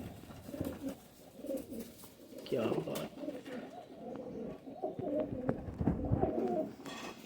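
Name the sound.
Kasuri high flyer pigeons cooing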